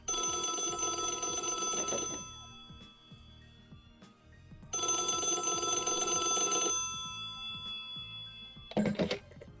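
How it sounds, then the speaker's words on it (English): A telephone rings in the video game I'm on Observation Duty: two long sustained bell rings separated by a pause, loud and close, followed by a brief clatter. "you'll hear a phone ringing and you need to go answer it."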